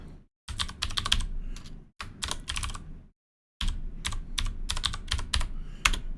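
Typing on a computer keyboard while entering a console command: quick close-up key clatter in three bursts separated by short pauses, with no voices.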